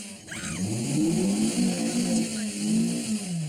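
A car engine strains and revs steadily under load as the driver slips and burns the clutch, a continuous mid-pitched drone rising and falling close by with no talk.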